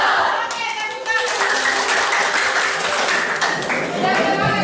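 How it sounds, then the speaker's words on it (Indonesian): A physics class of students claps hands together in a classroom, a loud, close burst of quick rhythmic clapping that continues steadily with children's voices calling out over it. "Oke, tepuk tangan."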